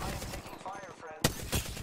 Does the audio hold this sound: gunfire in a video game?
yes